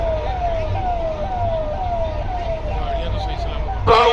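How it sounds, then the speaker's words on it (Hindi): An ambulance siren wails in a steady, rising repeated cycle as it passes the salute stage during a Republic Day parade in Lucknow, moderately loud, with crowd and background noise and a brief burst at the end. "स्वास्थ्य सेवाओं की प्रतीक एम्बुलेंस इस समय सलामी मंच के सामने से गुजर रही है।"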